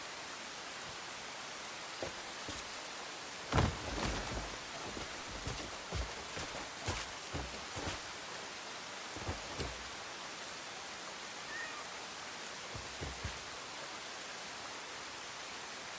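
Heavy rain falls in the open-world video game Crimson Desert. It makes a steady broadband hiss, with scattered soft thumps and clicks breaking through now and then, and no speech.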